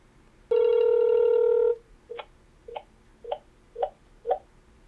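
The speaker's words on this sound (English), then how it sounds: "Now my phone will ring." A Panasonic KX-TG175C DECT 6.0 cordless phone rings with one sustained electronic tone lasting over a second, then a series of five short, fainter chirps at steady intervals, close and clear with no talking.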